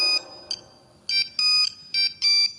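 A phone ringtone plays in short electronic bursts with pauses between them, bright and melodic, fairly loud and close.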